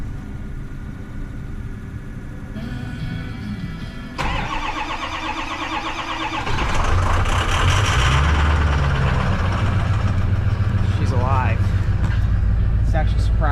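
A truck engine, just repaired at the injector, cranks and catches, then settles into a loud, steady idle with a low rumbling beat, while a voice talks over it nearby.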